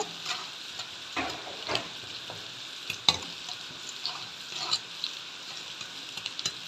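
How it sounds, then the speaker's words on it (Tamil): Onions frying in a pan for chicken rice, a soft sizzling hiss with scattered stirring scrapes and light ticks, quiet and close, no voices. "இப்போ இதில் ஆனியன் போட்டுக்கோங்க"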